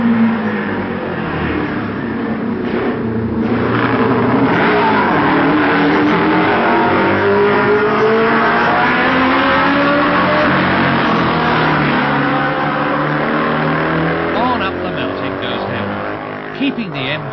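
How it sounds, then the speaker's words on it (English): A loud MV racing motorcycle engine at the 1965 TT roars and shifts pitch steadily, revving up and down as the bike races past, with a voice talking over it. "Mike's MV sounds in surprisingly good tune"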